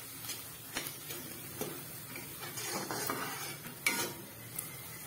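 Finely ground masala roasting in a pan for soya chunks curry, a faint sizzle with scattered spoon scrapes and taps against the pan.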